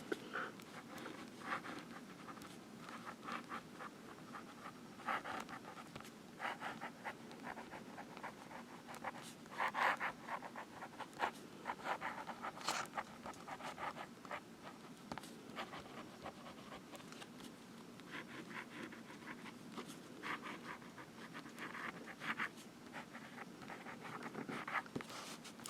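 A Platinum Curidas fountain pen nib scratches softly across paper in short irregular strokes, quiet and close with a faint background hiss.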